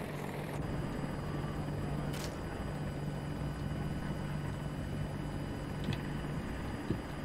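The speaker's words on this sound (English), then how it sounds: "Oh, I got an attack chopper." Attack helicopter in the Battlefield 2042 video game, a loud, steady rotor drone and engine whine continuing throughout, with a few brief sharp clicks and bursts over it.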